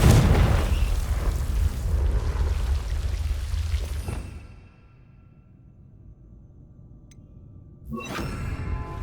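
A Confringo blasting spell explosion in Hogwarts Legacy, a loud booming burst with a rushing, crumbling tail that fades into near quiet, followed by another sharp magical whoosh near the end.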